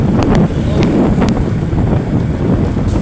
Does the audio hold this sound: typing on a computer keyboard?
no